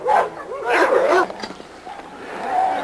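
Pecos, a six-month-old male dog, gives a few short yips and barks that slide into a whining whimper, loud and close at first, then quieter.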